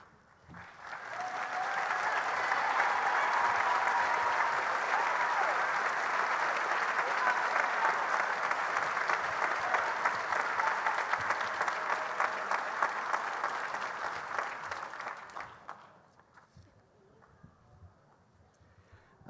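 A commencement audience applauds faculty and staff at a college ceremony, a broad sustained wave of clapping from a large crowd that swells, holds steady for over ten seconds, then dies away.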